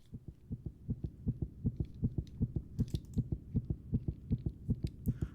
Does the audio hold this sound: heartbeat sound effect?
yes